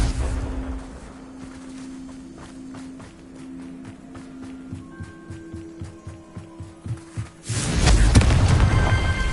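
A Confringo fire-blast spell in Hogwarts Legacy lands with a sudden loud, broad burst near the end, after a stretch of running footsteps and ambient game sound.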